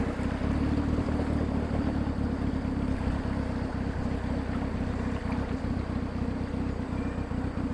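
Boat motor drones steadily throughout a short river crossing to the Kayan village of Huai Pu Kaeng, a loud continuous low rumble mixed with wind buffeting the microphone and faint water noise.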